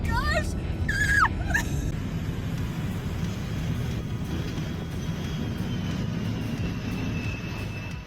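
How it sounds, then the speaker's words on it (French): Two J-16 fighter jets fly over Sichuan, producing a steady, loud roar of jet engines that fills the scene continuously, with a brief excited voice or whistle-like sound near the start. "Un moment spectaculaire montrant deux avions de chasse J-16 dans le ciel au-dessus du Sichuan."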